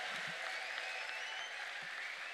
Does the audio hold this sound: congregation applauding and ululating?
yes